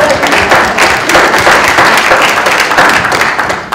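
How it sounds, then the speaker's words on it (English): Loud, dense audience applause at a literary festival panel in Boulder, a sustained wash of many hands clapping close by for nearly four seconds. "I think we should get a clap for Yeah. that."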